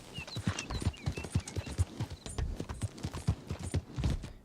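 A horse's hooves clop in a steady, brisk rhythm in Red Dead Redemption near Wallace Station. The hoofbeats are close and distinct, repeating evenly for several seconds.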